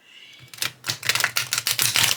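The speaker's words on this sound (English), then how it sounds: "let's see how they shuffle" A deck of tarot cards being shuffled, with a rapid run of crisp riffling and clattering bursts that begins after a brief pause and continues close and fairly loud.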